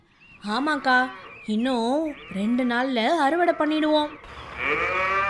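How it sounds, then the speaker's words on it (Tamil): A cow lows in a cattle shed on a farm, giving a drawn-out call near the end after someone speaks in the foreground. "பின்னாடி தொழுவத்தில் மாடு சத்தம் போடுது"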